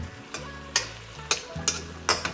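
Ginger, garlic and onion sautéing in a pan, a close sizzle with repeated sharp clatters of stirring against the pan at irregular intervals.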